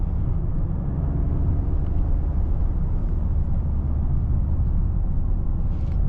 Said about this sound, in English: I really love the turbo sound you get from this one.